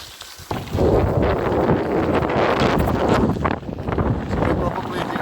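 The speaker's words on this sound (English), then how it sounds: "So you probably hear it's headwind, and it really is picking up." Strong headwind buffets the microphone outdoors near an old stone fence, a loud, continuous rumbling roar that swells and stays dense for the whole stretch with no talking heard.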